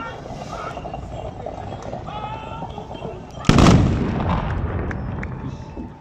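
Cannons go off at the end of a horse charge at a Moroccan fantasia: a single loud, sharp blast booms out, then a rumbling roar lingers over steady crowd noise and distant voices.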